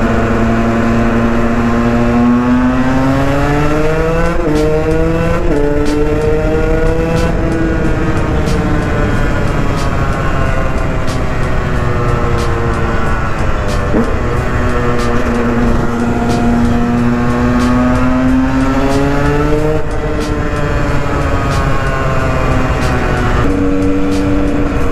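A KTM 125 EXC motorcycle engine roars continuously while riding through a tunnel, loud and close, its pitch climbing and dropping repeatedly with gear changes and echoing off the walls.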